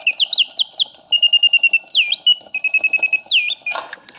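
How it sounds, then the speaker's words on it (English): A serviced vintage Karl Griesbaum singing bird box, still on its original wind, plays close and clear: rapid whistled trills, swooping chirps and runs of evenly spaced tweets, with faint mechanical whirring beneath and no talking. "a vintage Karl Griesbaum singing bird box that I fully service so everything works as it should"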